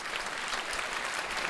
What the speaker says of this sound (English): let's give them a round of applause for supporting this event